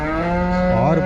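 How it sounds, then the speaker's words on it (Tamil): A six-tooth Punganur dwarf cow at the busy Vaniyambadi market before Pongal gives one loud, close, sustained moo that bends in pitch near its end. "6 பல்லு புங்கனூர் குட்டை மாடு"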